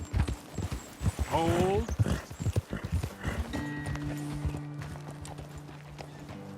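Horse hooves clip-clop at a steady rhythm in Red Dead Redemption 2, close and fairly loud, with a brief whinny and voices talking over them before the hoofbeats ease off.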